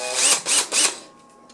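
A power drill with a 7/32 socket bit driving into a mini quadcopter frame held in a vise, three quick loud whirring bursts before the motor winds down.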